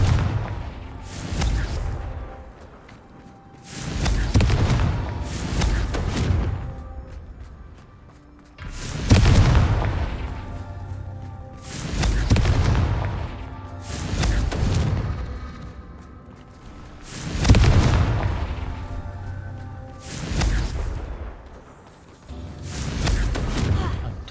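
Repeated Confringo fire-spell explosions in the video game Hogwarts Legacy, loud booming blasts arriving every few seconds in a steady rhythm, each with a heavy low thud and crackling tail, with game voices at times.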